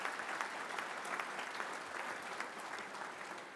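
A crowd at a Detroit Tigers event gives a round of applause for visiting students and sponsors, a dense, even wash of many hands clapping, fairly distant and steady for the whole stretch.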